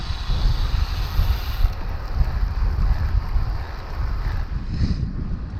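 Strong wind buffets the microphone on a winter road bike training ride into a headwind along the Lincoln Edge, a steady, loud low rumble with gusty surges throughout and no talking.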